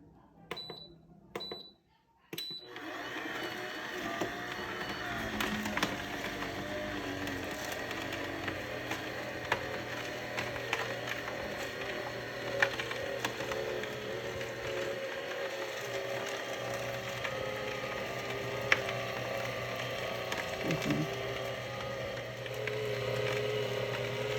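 A juicer machine grinding ginger and turmeric runs in a steady, continuous mechanical whir after a few sharp clicks as the lid closes, close and loud throughout, with no talk over it.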